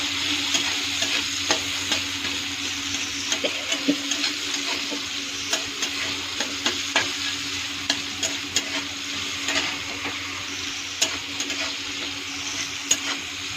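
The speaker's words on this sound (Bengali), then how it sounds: "পেঁয়াজ ছেড়ে দেবো, দুটোকে একসাথে মিক্স করে ভালো ভালো ভাজা ভাজা করে নেব।" Onion and black cumin sizzle in oil in a pan while being stirred. Even frying hiss runs throughout under frequent sharp scraping ticks from the spatula, close and fairly loud, with no talk.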